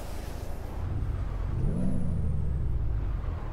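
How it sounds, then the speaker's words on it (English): Truck engine in American Truck Simulator revving up: a steady loud diesel drone that climbs in pitch and then eases back, with a faint high whine above it. "Yes, I'm revving my engine."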